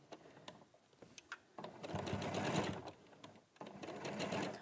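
A sewing machine fitted with a walking foot runs in short stitching bursts with brief pauses between them, its steady mechanical whir close and fairly quiet.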